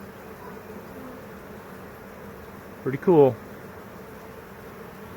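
A honey bee swarm moving into a hive beneath a peach tree gives a low, steady buzzing hum, with a brief spoken remark near the middle.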